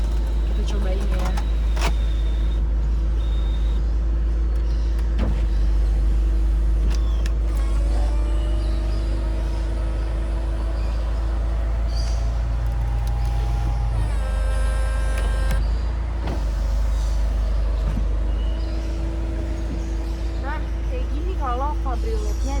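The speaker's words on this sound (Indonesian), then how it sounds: "ini buat buka kabrioletnya" The electric convertible roof of a 2010 Mini Cooper 1.6 S Turbo Cabriolet opens with motor whirs and mechanical clicks over a steady idling hum, while someone talks throughout.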